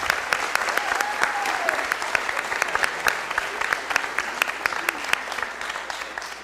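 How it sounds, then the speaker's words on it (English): Audience applause in a Fresno City Council chamber honoring the police and fire chaplaincy, steady dense clapping sustained throughout with a voice or two briefly audible over it. "can we give these guys a round of applause"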